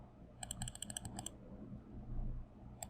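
Computer mouse clicking while selecting a date in an online calendar, a quick burst of about a dozen light close clicks followed by quiet room tone and one final click.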